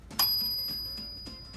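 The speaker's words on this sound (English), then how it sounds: "Here, zoom in so we can hear that bell." A 1975 Adler J5 typewriter's carriage bell rings once with a bright, clear ding that hangs and slowly decays over faint background noise.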